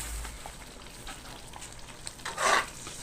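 Spaghetti sauce being stirred in a pan, a soft steady scraping and sizzle at low level, with a louder burst of stirring near the end; no one speaks.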